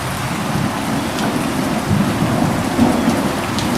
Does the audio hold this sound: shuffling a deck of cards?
no